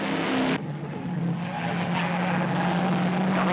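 1968 touring race cars, a Holden Monaro and Ford Falcon, race flat out at Bathurst, engines roaring past with a drop in pitch, then a steady droning note.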